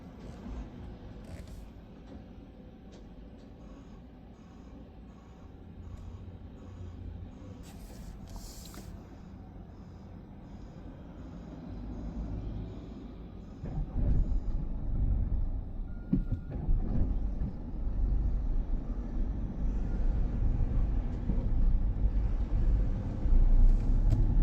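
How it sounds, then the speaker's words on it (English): A truck turns into the road ahead of a slowing car on a Huddersfield street, a low engine rumble under steady road noise that grows noticeably louder and heavier midway as the truck pulls through the turn. "let the truck take the turn"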